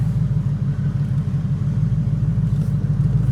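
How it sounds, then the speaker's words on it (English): TVR Chimera sports car out on a drive, its engine giving a loud, steady, rumbling throb with a regular pulsing beat close by the whole time. "Just out for a little cruise in the Chimera."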